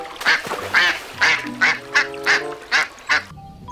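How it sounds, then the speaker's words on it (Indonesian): A toy duck quacking, about eight loud, evenly spaced nasal quacks close by, ending in a short electronic tone. "Ini adalah mainan hewan bebek"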